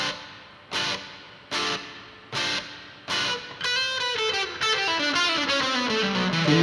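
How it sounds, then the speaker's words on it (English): Electric guitar played through a fuzz pedal placed ahead of a reverb pedal and amp: four separate distorted chord stabs, each with a washy reverb tail, then a run of sustained fuzzy notes that swell into a dense, smeared wall of sound. "This is fuzz in front of everything."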